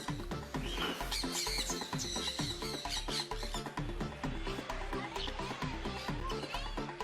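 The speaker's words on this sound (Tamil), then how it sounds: "வண்ணமயமான கிளிகளும் புறாக்களும் உங்கள் கை தலை மீது அமர்ந்து கொறிக்கும் அழகை காண கண்கோடி வேண்டும்" Colourful parrots and pigeons fill a bird park at Hogenakkal with busy, overlapping chirps, squawks and tweets, fairly close and continuous over a dense rhythmic background.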